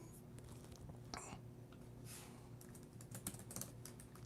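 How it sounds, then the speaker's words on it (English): Quiet clicking of keys on a computer keyboard in a room, a few irregular bursts of taps, faint and close, with a low steady hum underneath. "And so I'm typing this in the comments"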